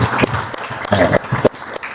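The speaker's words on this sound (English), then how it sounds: "give Tyler a big round of applause" A live audience at a podcast taping applauds in a short burst of dense clapping, fairly close and steady for about two seconds with a few louder peaks.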